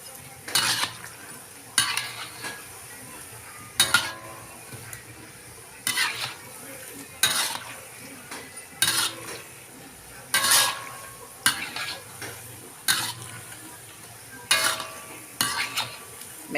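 A spoon scrapes and stirs food in a pan for a Filipino jambol snack, about ten rhythmic bursts of clinking and scraping over a faint sizzle, close and moderately loud with no talk.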